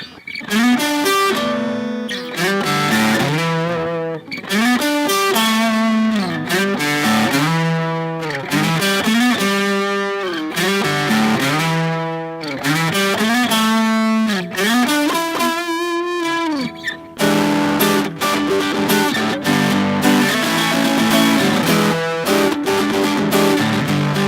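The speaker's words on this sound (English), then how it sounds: "Turn the distortion up to about 3 o'clock." Loud, heavily distorted electric guitar through an MXR Prime Distortion pedal, distortion set to about 3 o'clock, plays a continuous run of chords and riffs, thick and saturated, with no voices, filling the whole stretch.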